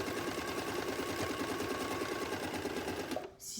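A sewing machine runs fast and steadily, stitching through two layers of fabric in a dense, even whirr close by, then stops abruptly just before the end.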